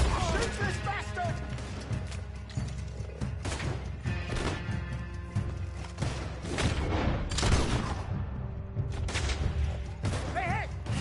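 Gunfire in the Red Dead video game: repeated loud shots and crashing impacts scattered throughout a long firefight, mixed with thuds and booms, while people shout and talk over the shooting.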